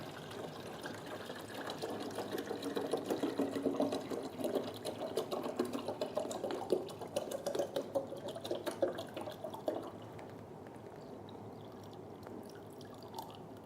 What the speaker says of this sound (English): fill to the water tank